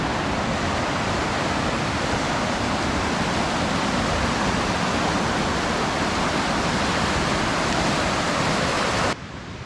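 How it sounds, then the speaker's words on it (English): A mountain creek on the Lakeshore Trail in the Smoky Mountains flows nearby, a loud, steady rushing wash of water that holds constant throughout and drops in level just before the end. "I'm headed down to the creek."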